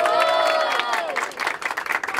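A crowd at a rap battle cheers and applauds for MC Angel, a loud cheer at first that breaks into a busy patter of clapping mixed with shouts, close and fairly loud.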